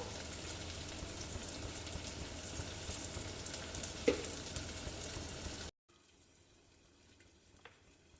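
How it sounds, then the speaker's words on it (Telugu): Mutton curry ingredients frying in a little oil: a soft, steady sizzle with one brief clatter. It cuts off abruptly partway through, leaving near-silence. "కొంచెం నూనెలో ఉడికిద్దాం, పచ్చివాసన పోయేంత వరకు."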